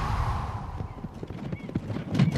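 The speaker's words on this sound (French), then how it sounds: "Il y a un homme à cheval là-bas." An approaching horse in an animated series gives quick clip-clopping hoofbeats with a whinny, close and fairly loud, growing busier toward the end.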